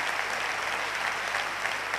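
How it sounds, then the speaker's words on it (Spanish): Applause from an awards gala audience in Ávila fills the hall, a dense, steady patter of many hands clapping without pause for the whole stretch. "pues un aplauso para ellos"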